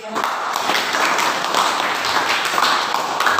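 Students clapping together in a school classroom, a steady, dense round of applause that fills the room evenly from start to end.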